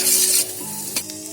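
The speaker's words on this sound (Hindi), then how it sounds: "इसका कलर चेंज होने तक हम इसको फ्राई करेंगे और इसमें चम्मच मुसलसल चलाते रहेंगे।" Semolina frying in a pan while a spoon stirs it constantly for pumpkin halwa, giving a close, steady dry sizzle that eases off into quieter scraping with a single brief clink.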